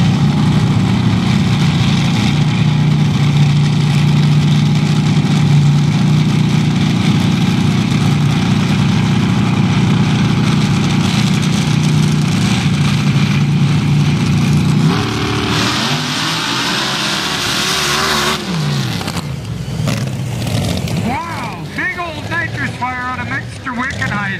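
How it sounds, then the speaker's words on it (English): A supercharged 571 Ford and a nitrous-fed 737 Chevy at a sand drag race roar loudly and continuously, with a commentator talking over them before the engine tone sweeps and shifts in the final seconds. "So, 571 Ford with a blower, 737 Chevy on nitrous"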